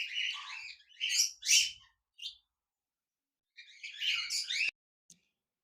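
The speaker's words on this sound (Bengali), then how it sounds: "বাজরিকার পাখি রয়েছে, বিগ সাইজের, ফুল ফ্রেশ।" Budgerigars in a cage chirping, a few short bursts of bright twittering calls separated by silence, close and moderately quiet.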